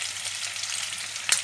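Ginger garlic paste goes into onions frying in a pan, producing a soft, steady close sizzle with a brief louder crackle near the end and no talking.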